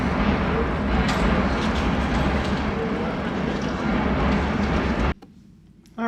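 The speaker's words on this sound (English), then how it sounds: "There goes the train." A train passes near a hotel by the water in Amsterdam, a loud continuous rumble and rush that cuts off abruptly near the end, leaving faint background.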